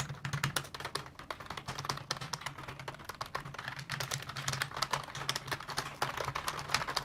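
Fingers tap quickly across a freshly cleaned computer keyboard, a dense run of light clicks heard close and fairly quiet, with no talking.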